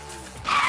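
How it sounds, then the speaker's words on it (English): A played-back car crash sound effect in which a brief rumble gives way to a loud, harsh tire-skid screech that sustains to the end. "I got audio of Noob-Noob dying in a car crash."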